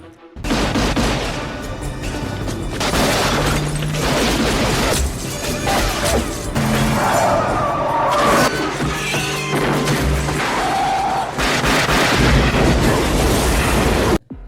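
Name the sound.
motorcycle crash and large explosion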